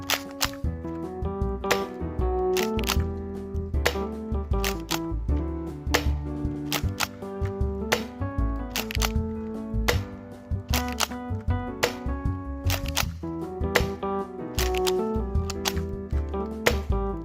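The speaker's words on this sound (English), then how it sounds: "we're out here with the Nerf Rival Mirage. We're going to be shooting it downrange" Nerf Rival Mirage blaster firing foam rounds downrange with slam fire from a 7-round magazine, a run of sharp mechanical clacks repeating at a quick, fairly steady pace over sustained tonal music, with no talk.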